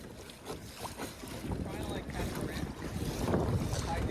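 Wind buffets the microphone on open water from a kayak, a steady rushing roar that swells louder toward the end, with faint water lapping underneath.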